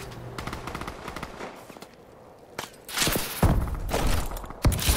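Rapid automatic gunfire from a Call of Duty: Advanced Warfare match on the Fracture map, bursts of machine-gun fire with heavy thumps and impacts growing louder and denser in the second half.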